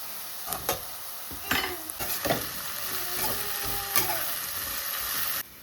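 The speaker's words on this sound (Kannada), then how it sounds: "ಇವಾಗ ಹಸಿರು ಮೆಣಸಿನ್ಕಾಯಿ ಪೇಸ್ಟ್ ಹಾಕ್ತಾ ಇದ್ದೀನಿ" Green chili paste frying and being stirred in a hot pan for a Kannada breakfast dish: sharp sizzling with several scraping spatula strokes and clinks, close and alone.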